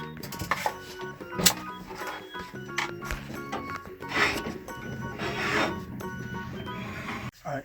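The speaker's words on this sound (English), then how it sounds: "Chopping our broccoli florets." Knife chopping broccoli florets on a board in a home kitchen, a run of irregular close taps and crunches with some rubbing between cuts and no talking.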